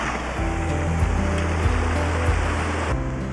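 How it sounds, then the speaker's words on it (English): A small waterfall on a coastal walk in Scotland's wild north pours in a steady, loud, broadband rush, close by and continuous, with a low rumble beneath the flow. "already a nice little waterfall"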